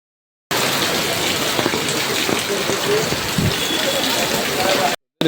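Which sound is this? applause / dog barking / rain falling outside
rain falling outside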